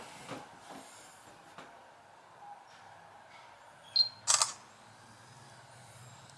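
Quiet background with faint rustles, then a short, bright electronic camera shutter click from a Samsung Galaxy Gear smartwatch sounds twice in quick succession, close and crisp.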